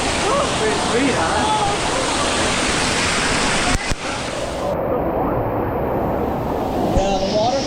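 A Maui waterfall pours into a shallow stream in a loud, steady, close-up hiss and roar that fills the whole stretch, with a brief knock partway through.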